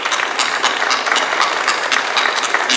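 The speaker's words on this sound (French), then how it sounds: "Moi, je pense qu'on peut les applaudir." Audience applause at an evening archaeology debate in France, dense and steady clapping from a crowd filling the whole stretch without a break.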